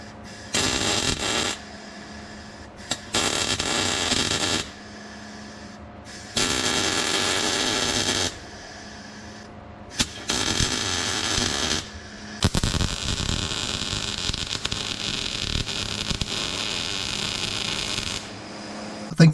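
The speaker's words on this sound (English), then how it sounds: "Let's put that into position and get it welded." Metal cap piece welded onto a Datsun car body in several long buzzing bursts separated by pauses, close and steady, with no talk.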